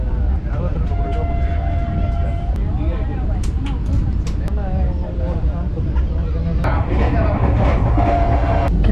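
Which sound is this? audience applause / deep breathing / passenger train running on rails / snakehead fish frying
passenger train running on rails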